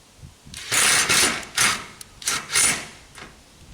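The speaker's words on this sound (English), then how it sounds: "so that the impact driver doesn't have to work too hard" A power tool chatters in several short bursts, a rapid rattling hammering as screws are driven, close and fairly loud.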